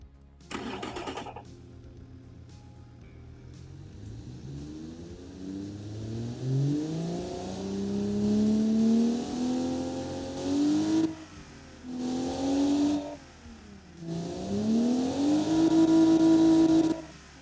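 An inline six-cylinder engine in a car-design video game, fitted to a 1984 German executive sedan, idles, then revs up in rising sweeps several times, with brief drops between pulls.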